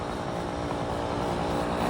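Engine of a small two-stroke motorbike running at a classic car and bike breakfast meet, heard as a steady, fairly loud buzzing drone over the whole short stretch with no talk.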